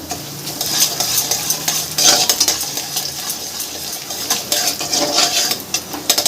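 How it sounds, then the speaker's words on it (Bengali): Mung dal fries in hot mustard oil with a soft continuous sizzle, while a spoon repeatedly scrapes and clatters against the pan up close. "মুগ ডালটা আমি একটু ভালো করে ভাজা ভাজা করে নেব"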